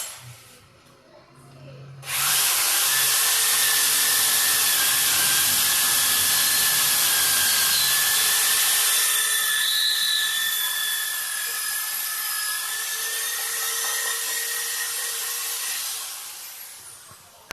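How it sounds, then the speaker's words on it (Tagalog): A power drill bores a hole in wood to fit a replacement tripod nut, running as a loud, steady, high-pitched whine close by for about fifteen seconds before winding down. "Yan po, binubutasan natin yan."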